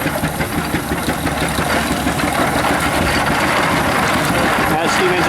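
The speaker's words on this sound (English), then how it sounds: "That steam engine's really cool," A steam engine running at the Wellington County Steam Threshers show, a loud steady mechanical chugging and rumble close by, with voices under it.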